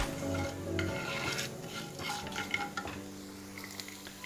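Coriander powder roasts in coconut oil in a pan, with a soft sizzle under frequent scraping and stirring of a spoon against metal, plus a few light utensil clinks, fairly quiet and close.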